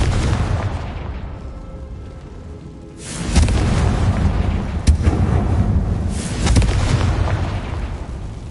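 Confringo spell blasts in the video game Hogwarts Legacy: a quiet stretch, then a loud booming burst at about three seconds, a sharp crack near five seconds and another rumbling swell around six and a half, with no talk.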